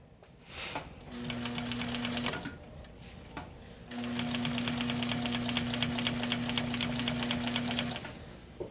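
A sewing machine runs along a stitch line on a box cushion in two sustained bursts, a steady close hum with rapid needle clatter, separated by a short pause.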